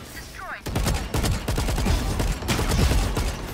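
Arcane Vandal rifle in Valorant fires in long, rapid automatic bursts that start abruptly after a short quiet lead-in, loud and close, with brief pauses between volleys.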